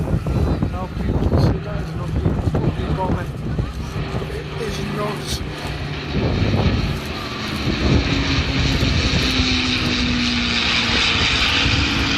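Propeller engines of a Supermarine Spitfire and Avro Lancaster flying at the 2017 Southport Airshow, a loud sustained droning roar that swells and fades as the aircraft pass, with a commentator talking over it.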